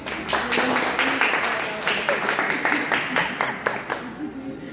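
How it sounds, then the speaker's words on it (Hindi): A small audience claps in a quick, rippling burst of applause that tapers off near the end. "ताली तो बजनी चाहिए"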